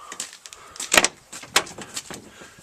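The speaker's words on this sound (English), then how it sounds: "Then we can open the passenger door." A VW T5 Highline campervan's passenger door is opened, giving a series of close mechanical clicks and a sharp latch clunk, followed by lighter rattles and knocks.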